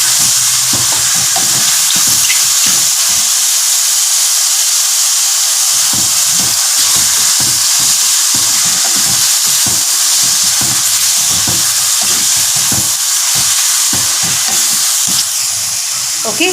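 Mushrooms fry loudly in a pan, a close, continuous sizzle and hiss with repeated scraping stirs throughout as they soften in their own released water.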